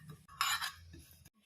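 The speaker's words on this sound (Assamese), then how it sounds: "এইখিনি মই ভাল ধৰণে মচমচীয়াকৈ ভাজি ল'ম" Panch phoron, cumin and coriander seeds are dry-roasted in a pan for an olive pickle: a brief, faint, close patch of scraping and light clinking as they are stirred.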